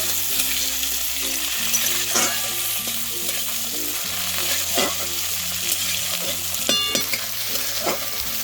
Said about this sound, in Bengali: ঠিক এই পর্যায়ে দিয়ে দিচ্ছি একটা টমেটো কুচি। টমেটোগুলোকে নাড়িয়ে চাড়িয়ে একটু নরম করে নেব।